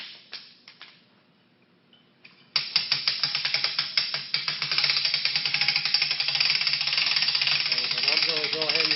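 A hand crank pulley on the rigging for a 20-foot mega Christmas tree ratchets while winding in slack. It gives rapid, close clicking that runs steady for several seconds after a few scattered clicks.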